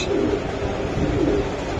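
Soft, low cooing from racing pigeons rolls on steadily against a constant background hiss, with no voices.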